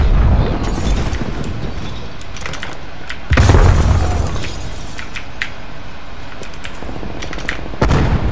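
A Semtex grenade bursts in Call of Duty Cold War: a loud, broad boom erupts amid ongoing game gunfire, with sparse clicky keystrokes from a mechanical keyboard scattered throughout.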